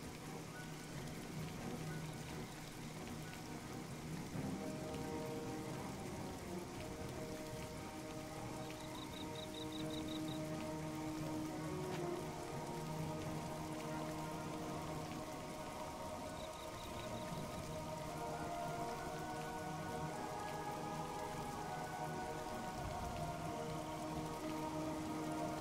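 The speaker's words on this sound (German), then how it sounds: "nackt durch den Regen zu rennen." Quiet, steady rain falling in the video game The Elder Scrolls Oblivion, a soft continuous patter throughout with no talk.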